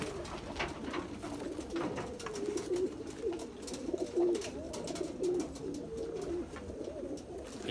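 Several pigeons coo steadily in low repeated phrases, fairly close, over light background noise; these are domestic flying pigeons kept by a breeder.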